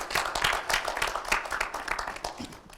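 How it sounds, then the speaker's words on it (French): Audience applause at a French-language youth debate show, dense steady clapping from many hands filling the room, fairly close and continuous with no talk over it. "Applaudissez pour elle, s'il vous plaît."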